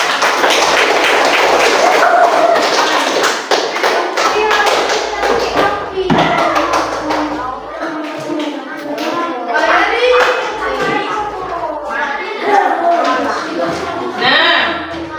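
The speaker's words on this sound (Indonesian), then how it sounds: "Ya sudah, kasih tepuk tangan dulu Ida." Fifth-grade classroom clapping during a science lesson on light passing through paper, a sustained patter of children's hand claps with taps and thumps, heard near and loud alongside scattered children's voices.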